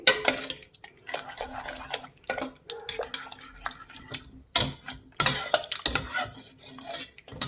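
A spoon scrapes and clanks against a metal pot in repeated bursts, thick soft mashing strokes of hot cooked lentils for sambar between the knocks, close by with no talking.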